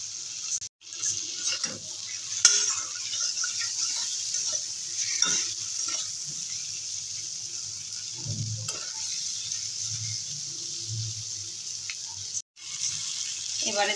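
Ingredients for a light bata fish curry are stir-fried in a pan, giving a steady close sizzle with occasional scraping and clinks of the spoon against the pan.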